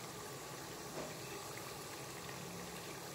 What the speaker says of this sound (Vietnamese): Mình chiên trứng cút cho da nó phồng lên